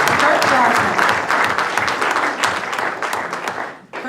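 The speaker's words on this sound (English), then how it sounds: "Let's give a hand." A hotel ballroom audience breaks into a dense, sustained round of applause at a mayoral campaign kickoff, loud and steady throughout before tapering off right at the end.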